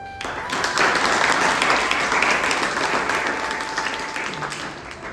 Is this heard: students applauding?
yes